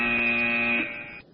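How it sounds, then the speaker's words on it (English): A quiz show buzzer goes off at a contestants' table, sounding as one steady electronic tone held for just over a second before cutting out, loud and close with no voices. "That would be table number 4 that has gone on the buzzer."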